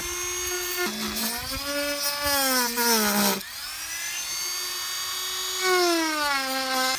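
A power drill bores holes for car door panels on a drift build, whining at a high pitch in two bursts that rise and sag in speed, with a brief pause between runs and no speech.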